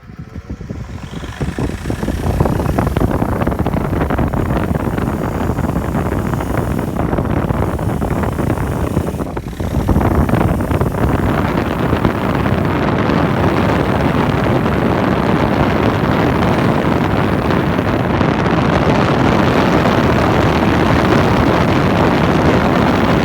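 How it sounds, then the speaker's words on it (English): Drill-driven grinder working on a rusty Yamaha Virago 535 motorcycle wheel, a loud continuous whirring grind that briefly dips before resuming steadily. "It hasn't got the power to keep this spinning while I'm using it to grind."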